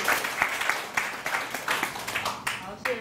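An audience at a Taipei startup pitch event applauds to welcome a speaker onstage, a brief burst of steady clapping from a crowd with voices mixed in under it.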